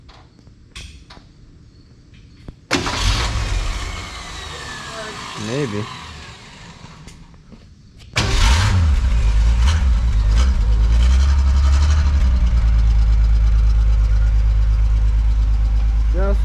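A 1968 Ford Falcon with a new budget exhaust, heard first through brief voices and clatter, then the engine cranking, catching and settling into a loud, steady, rumbling idle close by, with a short spoken word.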